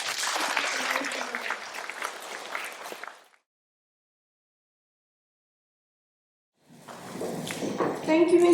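An audience at a school stage presentation claps for a student, a scattered round of applause that fades into silence, then resumes with crowd noise and a voice speaking afterward.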